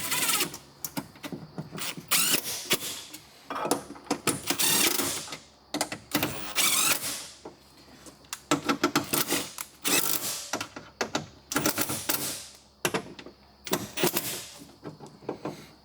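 Metal tools click and ratchet in bursts while bolts are started on a driver-side window regulator assembly of a 2006–2016 Chevrolet Impala, close and fairly quiet, with no talk.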